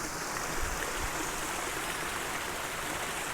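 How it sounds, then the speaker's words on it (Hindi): Stream water flows steadily on a forest trail near Rudradhari waterfall in Kausani, a constant broadband rush with no talk over it. "ये पानी की आवाज़ आपको आ रही होगी।"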